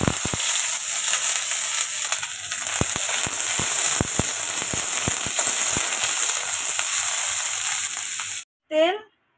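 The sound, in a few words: potatoes frying in a pan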